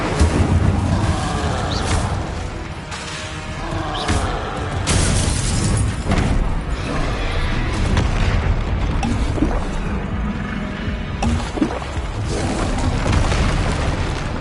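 Spell effects from Hogwarts Legacy combat, dense and continuous: repeated booming blasts, bursts and fiery whooshes layered over each other with no pauses, loud and close throughout.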